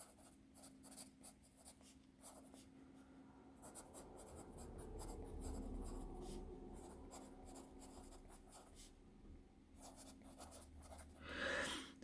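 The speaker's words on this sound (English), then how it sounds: "It writes like a number 2 pencil." A vintage pencil that writes like a number 2 scratches across paper in quiet, close strokes, short rhythmic scribbles broken by brief pauses, with a louder rub near the end.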